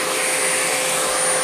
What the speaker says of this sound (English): You don't like to vacuum?